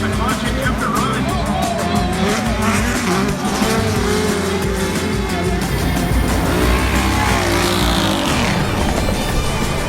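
An off-road race vehicle at the Crandon, Wisconsin short course race idles loudly with the clutch pushed in. The close engine drones and revs continuously, filling the whole stretch.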